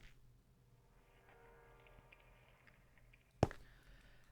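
Minecraft Decked Out 2 dungeon effect for blocking Hazard in the video game: a soft, low ambient hum, then a sudden sharp crack-like burst near the end and another short hit as it cuts off.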